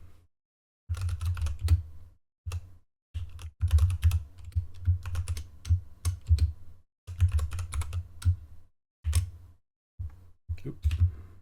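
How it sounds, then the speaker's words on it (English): Steady bursts of typing on a computer keyboard as a search phrase is entered, the close key clicks running in quick clusters broken by short pauses. "now I can type in that initial search"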